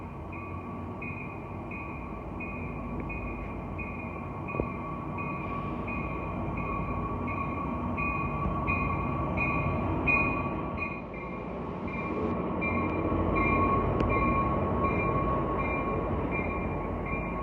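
An Amtrak or Union Pacific train pulls into Jack London Square in Oakland, California, a steady, fairly distant rumble with a sustained high metallic tone and rhythmic wheel clatter, growing louder as it arrives.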